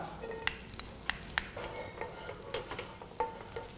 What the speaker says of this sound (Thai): พอน้ำมันของเราร้อนดีนะครับ เราก็จะใส่ กระเทียม ซอยลงไปครับ